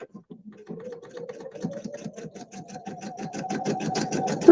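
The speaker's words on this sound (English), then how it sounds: "Right there, sewing along." A sewing machine runs a quarter-inch seam on a quilted table runner, its needle chattering in a fast, even rhythm that builds slightly in speed and loudness, close and alone.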